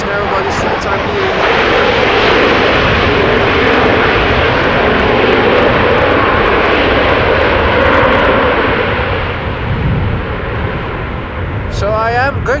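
An airliner lands at Amsterdam Schiphol Airport in breezy post-storm conditions, a loud, sustained engine roar that fills the whole stretch before easing off near the end, heard alone without talk.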